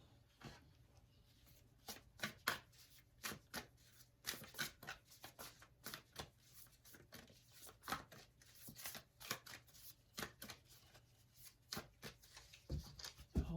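Tarot or oracle cards being shuffled and handled in irregular bursts of riffling and tapping, close up and quiet, with no talking.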